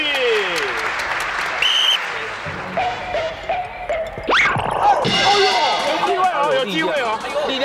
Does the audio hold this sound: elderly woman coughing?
no